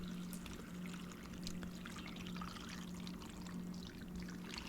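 Plain water pours steadily into a cooking pot for a vegetable and cabbage soup, a continuous close splashing gurgle that holds for several seconds with no talk over it.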